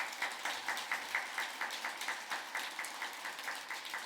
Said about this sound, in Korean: 주심을 위해서 박수 한 번 해드려야죠.